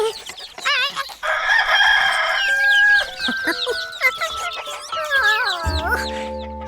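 A single cartoon farm rooster in Curious George crows loudly and close, a drawn-out cock-a-doodle-doo with clucking around it, followed by further animated chirps and effects.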